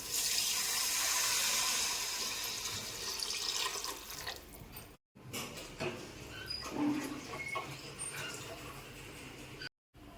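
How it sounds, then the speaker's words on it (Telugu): Water pours into a cooking pot for bagara rice with fried mint and coriander, a close, loud splashing rush that fades into softer trickles and small clinks. Two short silent gaps break it up. "ఇప్పుడు నీళ్ళు పోసేస్తున్నాం"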